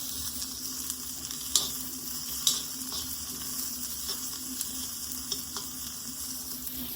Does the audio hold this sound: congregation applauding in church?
no